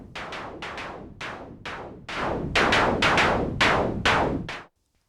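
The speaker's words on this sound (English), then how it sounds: "This is the noise of dot 3" Noise-mode oscillator dot 3 on the Orbit synthesizer, sounding as a run of about eleven loud, bright noise bursts with sharp attacks and short decays, growing louder midway, then stopping abruptly.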